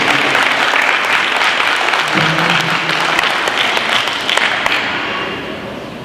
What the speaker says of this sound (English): Give him a clap as he's coming.